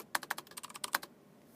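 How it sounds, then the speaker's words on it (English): Quick typing on a computer keyboard, about a dozen sharp key clicks in an uneven burst for about a second, close and clear, then quiet; no voices. "You can also type."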